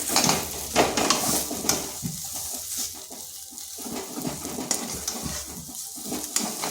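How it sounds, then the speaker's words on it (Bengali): A potato mixture stirred in a pan over medium heat gives uneven scraping and clattering strokes, with a soft sizzle underneath and bursts of louder spoon noise. "আঁচটা মিডিয়ামে রেখে বেশ কিছুক্ষণ এইভাবে নেড়ে নিতে হবে।"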